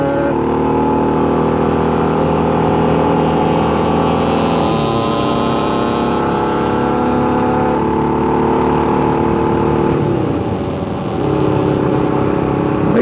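A 600cc enduro motorcycle, custom-built by Griffin Customs from a dirt bike and a sport bike, drones loudly and steadily while being ridden, its engine pitch rising and dropping at shifts through the gears, with no talking over it.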